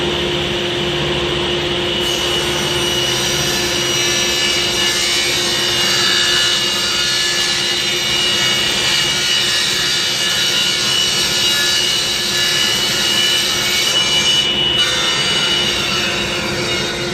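A table saw rips a tapered angle along a wooden pedestal-table piece in one steady, loud cut, a continuous whining drone that holds for the whole stretch with no talk.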